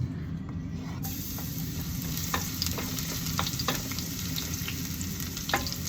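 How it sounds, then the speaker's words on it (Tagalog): Corned beef sautéing in very hot oil with a steady, dense sizzle throughout, broken by scattered clicks and scrapes of stirring; a constant background hum sits underneath, and nobody speaks. "Ngayon, gisa-gisa muna tayo."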